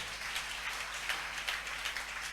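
Steady applause from a church congregation clapping for the Lord, a dense, even wash of many hands at moderate loudness with no talk over it.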